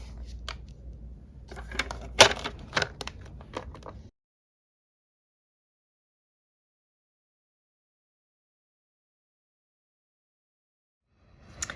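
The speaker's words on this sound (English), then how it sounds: "So you just bring your paper trimmer all the way down" A paper trimmer slicing cardstock for a handmade snowman and top hat card, a few seconds of close clicks, scrapes and a sharp snap, then a long silence before a brief rustle at the end.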